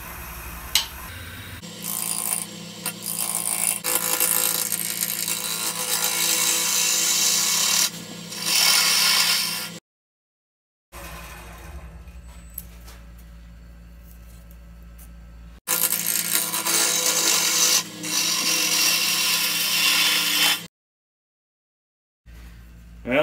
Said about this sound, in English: I'm cutting this spinning branch here, and so it's actually side grain, so I'm going to pull cut it for a little bit and then push cut in